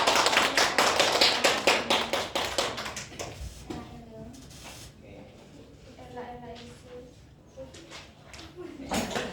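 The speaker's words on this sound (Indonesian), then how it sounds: "Beri tepuk tangan untuk Mbak Ella" A classroom group claps for a student during a microteaching lesson, several seconds of quick, uneven clapping that tapers off, followed by a teacher speaking.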